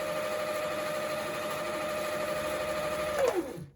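A Singer sewing machine winds a bobbin with a steady, close mechanical whir that runs evenly, then winds down and stops near the end.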